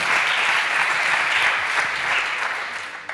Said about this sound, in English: big applause for them